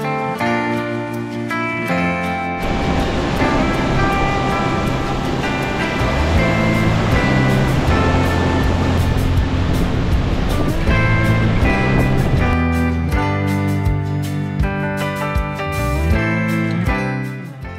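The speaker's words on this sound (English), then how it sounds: "the first one being Bridal Veil Falls. This is the stunning waterfall that you see from the tunnel view lookout." Bridal Veil Falls in Yosemite Valley, a steady broadband roar of falling water with wind, heard over music.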